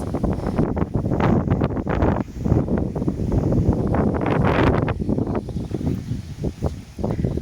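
Strong wind in a garden buffets the microphone in rough, continuous gusts, loud and rumbling, easing slightly toward the end.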